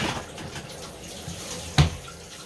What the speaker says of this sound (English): if I rinse it off with hot water